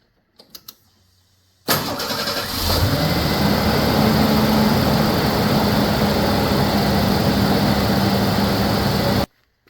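After a couple of faint clicks, a car engine cranks and catches, then settles into a loud, steady idle that runs close up for several seconds before cutting off abruptly.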